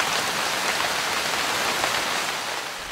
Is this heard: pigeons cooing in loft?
no